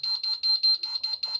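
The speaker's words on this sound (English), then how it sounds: "and the beacon over there. Keeps beeping" A FirePoint-2 addressable fire alarm beacon in a shed beeping in a fast, regular series of about seven piercing high-pitched electronic pulses, close and clear.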